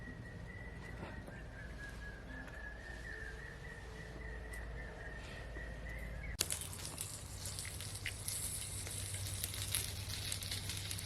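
Potato vadas fry in oil in a pan, a steady close sizzle throughout that turns louder and denser partway through, with a faint whistling tone beneath the first half.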